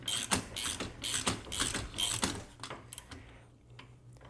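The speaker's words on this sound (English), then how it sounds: "give it a good snug turn with a nice size ratchet" A ratchet snugs down a golf cart steering wheel mount with quick, repeated clicking bursts in an even rhythm, close by, trailing off into a few sparse clicks at the end.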